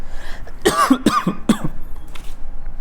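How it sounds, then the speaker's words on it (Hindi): Three harsh, close coughs from a sick man come in quick succession, then fade into quiet room noise. No one speaks. "खांसी भी हो रखी है मेरे को"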